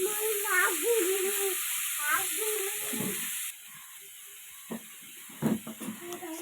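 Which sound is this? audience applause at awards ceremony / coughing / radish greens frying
radish greens frying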